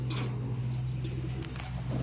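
Low, soft cooing of racing pigeons continues steadily close by over a quiet background hum.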